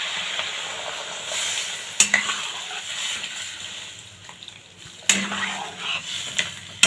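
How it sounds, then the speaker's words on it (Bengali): Water goes into a pan of frying vegetables for mushroom soup, bringing sharp hissing bursts over a continuous sizzle, with faint utensil clinks and no voices. "এবার আমি এখানে জল দিয়ে দেবো।"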